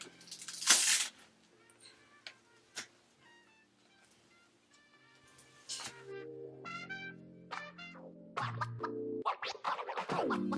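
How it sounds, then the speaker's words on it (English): Scissors cutting the lace of a silk straight wig during an install, heard as close, uneven snipping and scratchy rustling with pauses between cuts, no talking. "Alright, now time to cut the lace."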